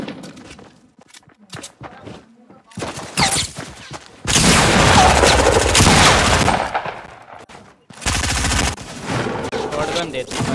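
Shotgun blasts in Fortnite Battle Royale, a sniper shootout match: sharp gunfire bursts come in scattered clusters, swelling into two long, loud stretches of sustained shooting, with talk between the volleys.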